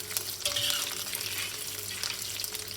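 Dried prawns frying in hot oil in a pan, a steady close hiss and crackle of sizzling that runs continuously without talk.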